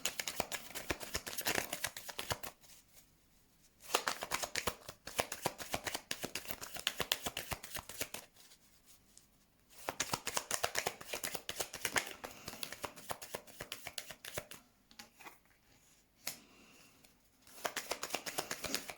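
Tarot cards shuffled by hand in repeated riffling bursts of dense papery flutter, each lasting a few seconds and separated by short quiet pauses, close and fairly loud with no talking.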